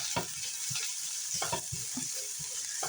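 Garlic stirred into softened onion in a pan, with a low steady sizzle and scattered scraping stir strokes throughout, close and moderately quiet, no talking.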